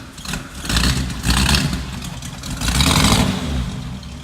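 A stone-cold 1939 Pontiac Eight straight-eight engine catches and settles into a steady idle, its low rumble swelling in a few surges of revving, close and loud throughout with no talk.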